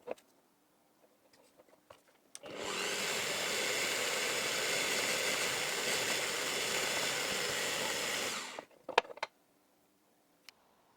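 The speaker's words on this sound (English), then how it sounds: "So yeah, so the next stage is going to be drilling for these holes." A power drill bores holes in a panel for 12-volt power connectors, one continuous whirring burst of about six seconds between quiet moments, followed by a few small clicks.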